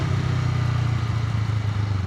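Honda Rebel 500 motorcycle engine running steadily at low to mid revs, a close, continuous throaty drone with slight rhythmic fluctuation, no talking.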